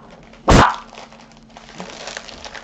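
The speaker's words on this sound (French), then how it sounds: "Désolée pour les aboiements." A single sharp dog bark close by, followed by quiet room noise and faint shuffling.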